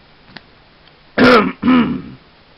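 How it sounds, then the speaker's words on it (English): Two quick, close, rough coughs, one right after the other, ringing out loudly in an otherwise quiet space. "A bit of a cough there."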